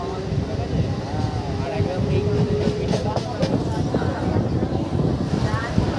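A Bally–Bandel local train rumbles along near Bhadreswar, a steady low rolling drone with faint rhythmic clatter from inside the carriage, while people talk over it.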